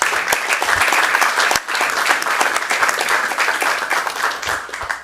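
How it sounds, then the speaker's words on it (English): Audience at a Burbank city council meeting giving a round of applause to committee members, close, brisk clapping from a modest crowd with individual hand claps standing out, holding steady before thinning toward the end. "Give these folks a round of applause."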